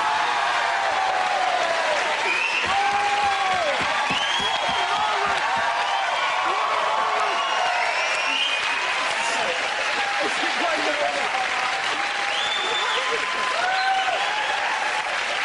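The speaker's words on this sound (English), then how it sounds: "Everyone clap." Studio audience applause on a comedy panel show, a dense, sustained roar of clapping with some cheering, loud and continuous throughout.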